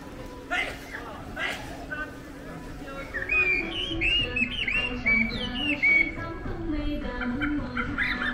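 Artificial bird calls played through speakers at a water park under construction in Inner Mongolia, China: high chirps and warbling whistles in the middle of the stretch, under ongoing conversation and steady background hum.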